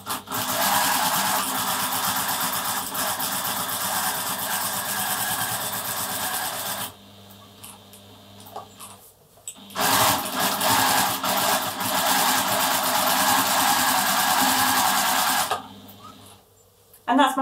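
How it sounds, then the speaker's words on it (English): Sewing machine stitching along the edge of a quilt over the tape, a steady close mechanical whirring that runs for several seconds, pauses briefly, then resumes for a long run before stopping again. "So I'm starting off the edge of the quilt and I'm just going to start stitching along the edge"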